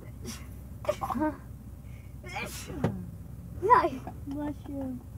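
A single sneeze bursts out amid casual conversation inside a car, with people talking around it.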